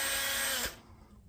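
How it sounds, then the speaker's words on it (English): A power drill whines loudly as it bores into a Valentine ornament, a short high-pitched burst that cuts off abruptly after about half a second, followed by quiet. "if you don't have a drill bit that's bigger, you can use a small one and just go in and out"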